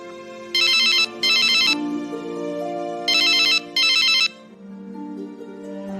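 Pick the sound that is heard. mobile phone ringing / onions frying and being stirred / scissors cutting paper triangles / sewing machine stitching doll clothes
mobile phone ringing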